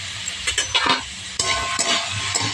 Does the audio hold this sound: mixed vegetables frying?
yes